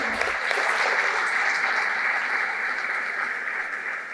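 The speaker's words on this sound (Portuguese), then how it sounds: "uma forte salva de palmas por essa parceria tão longa" Steady, dense applause from an audience at a business awards event in São Paulo, an even wash of many hands clapping that slowly eases over about four seconds.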